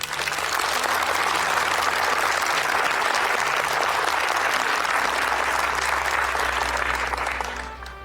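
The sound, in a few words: audience applause for a soldier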